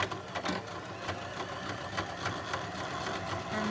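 A sewing machine runs a zigzag stitch along the edge of sweatpants, a steady close mechanical whirr with a fast rhythmic needle clatter and no talking.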